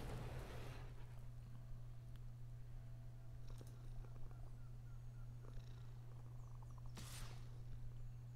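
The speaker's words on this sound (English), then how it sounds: "ASMR-esque purr." A cat purrs steadily in the MTG Arena video game, a continuous low rumbling drone that runs unbroken and close throughout, with a few soft higher blips from the game over it.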